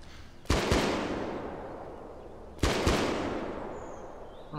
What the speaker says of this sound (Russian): 2 выстрела, 2 пульки в бок ему, и он лежит